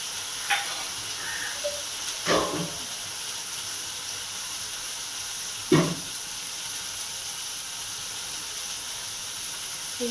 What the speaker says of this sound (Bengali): এবার মশলাটা ভাজি